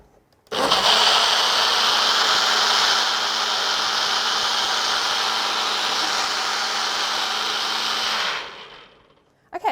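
A blender runs steadily at high speed for about eight seconds, blending dates and coconut into a smooth mix, loud and close, with a constant whirring roar that winds down abruptly at the end.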